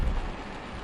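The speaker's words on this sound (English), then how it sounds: "I feel like it's just going to keep raining our entire trip today" Steady rain in American Truck Simulator drums on the truck as a dense, loud wash of noise, continuous through the short stretch with no voices.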